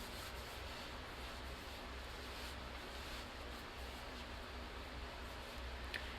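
Makeup is rubbed into skin with a soft, continuous, close-up friction rustle that stays even and quiet throughout.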